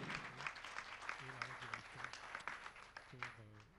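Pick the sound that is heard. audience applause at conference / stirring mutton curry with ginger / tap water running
audience applause at conference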